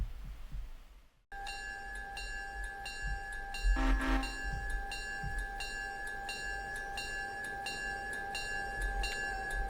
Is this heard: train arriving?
yes